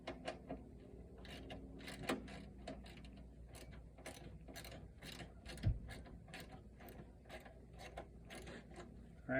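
A socket ratchet clicks in quick bursts while loosening bolts on a Pontiac Solstice car panel, the crisp pawl ticks repeating close up and fairly quiet, with short pauses between strokes.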